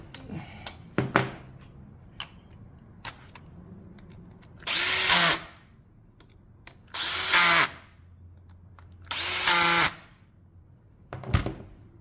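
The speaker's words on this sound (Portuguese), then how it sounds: "Agora é só parafusar aqui." A power drill drives screws into an engine part on an Aprilia RS50 motorcycle fitted with a CR 250R engine swap, three loud, close whirring bursts of a few seconds each, between clanks and clicks of handled metal parts.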